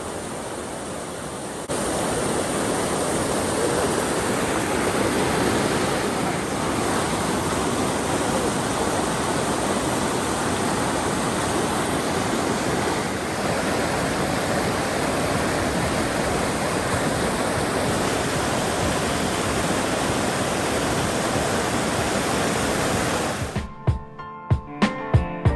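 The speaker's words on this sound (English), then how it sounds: "take the natural water slide down the High Falls in mid-October" Waterfall at High Falls in Algonquin Park in mid-October: a steady, loud, broadband rush of falling water holds constant throughout, then breaks into irregular bumps and clatter in the final seconds.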